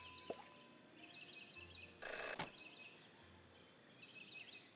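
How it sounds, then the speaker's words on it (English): A telephone rings in the video game Jenny LeClue: a single loud, bright burst of ringing partway through, set against a quiet ambient game soundscape with faint chirps. "Jenny had learned never to ignore a ringing phone"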